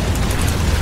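A bomb detonating in the Lost Viking arcade minigame of StarCraft II: Wings of Liberty, a dense, steady burst of roaring blast noise with a heavy low rumble, loud and close, filling the brief moment without any voices.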